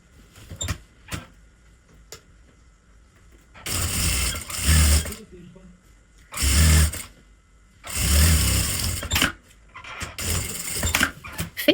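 Sewing machine running a straight seam through fabric for a laptop cover, in several loud bursts of rapid stitching a second or two long, separated by quiet pauses with small clicks and handling.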